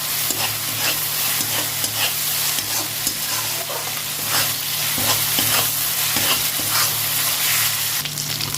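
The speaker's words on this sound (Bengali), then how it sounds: "ভালো করে ভেজে নেবো" Ginger, garlic, green chili and tomato paste fry loudly in a pan, a dense continuous sizzle with frequent stirring scrapes throughout, close up and without speech.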